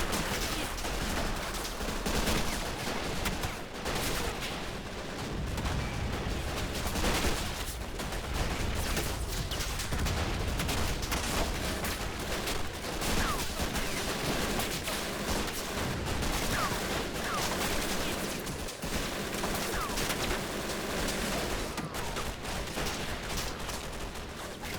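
Sustained MG42 machine gun bursts and scattered rifle fire from a World War II trench battle in the game Assault Squad 2, loud and continuous with overlapping shots throughout, no speech.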